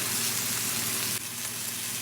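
Turkey patties browning in a pan with minced garlic added, giving a steady, close, loud sizzle that holds throughout and drops slightly in level partway through.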